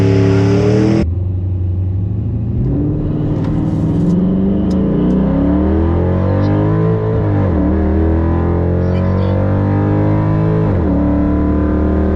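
A cam-swapped Chrysler 300 SRT8 with a 6.1 Hemi V8 accelerates hard at a drag strip, its deep throaty engine note loud and close, climbing through gears with clear shift dips and no voices.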